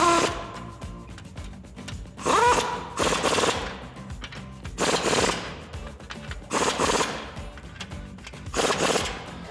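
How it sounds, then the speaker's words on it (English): A 22mm socket tightens suspension bolts on a 2016-2021 Toyota Tacoma during an Old Man Emu 2-inch heavy load lift install, heard as several loud rattling bursts separated by short pauses. "Grab your 22mm socket, go ahead and tighten these down."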